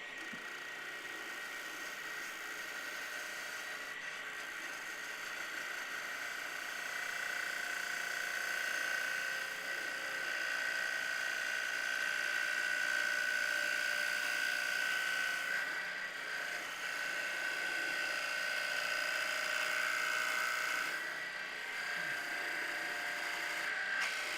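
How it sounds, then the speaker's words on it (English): Wood lathe with a turning tool cutting a tenon about a quarter inch deep into ash wood, a steady sustained whine with a faint scraping hiss running throughout, moderately close and even. "We're just going to cut a spigot or a tenon on here that's about 1/4 of an inch in depth"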